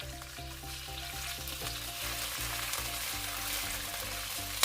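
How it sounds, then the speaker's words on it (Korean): Minced garlic stir-frying in a spoonful of cooking oil in a preheated pan, a steady close sizzle with crackling and the repeated scrape of stirring, no voices. "예열된 팬에 식용유 한 큰술을 두르고 다진 마늘 한 큰술을 넣고 볶아줍니다."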